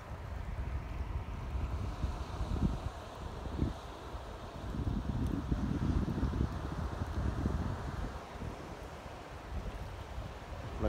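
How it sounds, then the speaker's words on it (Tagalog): Waves breaking along a provincial beach shore keep up a steady, loud rushing wash, with louder surges near the middle and wind buffeting the microphone throughout. "Nagabasag yung alon niya eh."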